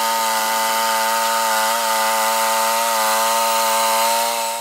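A Frontier OS27 bandsaw mill with a worn blade cuts through a 21-inch red oak cant, giving a loud, steady, close engine drone and blade whine that holds evenly throughout.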